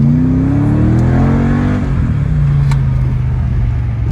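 A Mercedes CLK55's engine, recently out of limp mode, revs loudly and close by, its deep note climbing in pitch, then easing back down and holding at a steady rumble.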